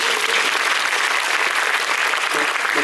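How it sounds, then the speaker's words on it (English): An audience applauds after a concert remark, with dense, sustained clapping that stays steady and loud the whole time, without any pause or talk over it. "Applaud that."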